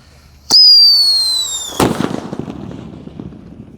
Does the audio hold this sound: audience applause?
no